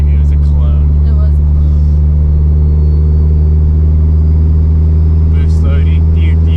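A built Mitsubishi Evo's turbocharged engine hums at a low, steady drone inside the car as boost builds. It is loud and close throughout, with a few brief bursts of whine or hiss and some speech over it.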